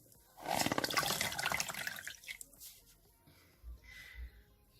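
Water splashes loudly at a sink as a face is rinsed during a skincare routine, a dense burst of about two seconds followed by quieter drips and sloshes.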